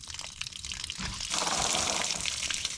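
Pink antifreeze drains from an open tank valve on a toy hauler, a steady splashing pour of liquid that swells louder after about a second and keeps running without a break.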